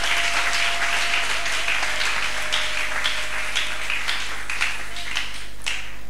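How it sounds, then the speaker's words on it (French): A church congregation at a Sunday service applauds continuously, a dense, steady wash of many hands clapping in a large room with a faint low hum underneath. "Acclamez-le encore."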